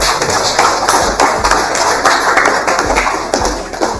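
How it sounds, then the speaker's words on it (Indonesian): Students in an Indonesian chemistry class clap their hands together, a busy, uneven patter of sharp claps at close range that runs throughout without pause. "Berikan tepuk tangan untuk awal."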